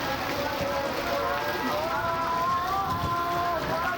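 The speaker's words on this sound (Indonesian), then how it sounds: "hujan bareng-bareng" Heavy storm rain falls in Bekasi Regency as a steady, loud hiss, with people calling out and talking over it throughout.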